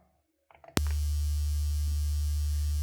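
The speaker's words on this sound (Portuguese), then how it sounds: "Esse é um som de 74 Hz." A steady 74 Hz low-frequency test tone switches on abruptly after a moment of quiet and some faint handling noise, then holds as a loud, constant deep hum.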